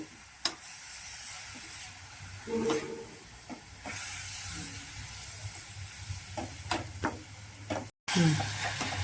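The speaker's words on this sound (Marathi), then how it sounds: "त्याचा किस टाकायचा आणि याला चांगलं फिरवून घ्यायचं तेलामध्ये" Grated radish stirred in hot oil in a pan, giving a steady soft sizzle with occasional scraping clicks of the spoon, close and moderate in level.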